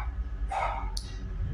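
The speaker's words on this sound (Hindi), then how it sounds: "वैसे मेरे कुत्ता थोड़ा भौंक रहा है" A pet dog gives one brief, near bark over steady background noise from an Indian horror mobile game.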